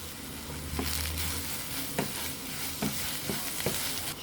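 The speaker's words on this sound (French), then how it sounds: "On va laisser cuire pendant 2 à 3 minutes jusqu'à ce qu'il ne reste plus d'eau dans la poêle." Cèpes mushrooms cook in a frying pan with a soft, steady sizzle as their water boils off, broken by a few sharp scraping stirs of a utensil against the pan.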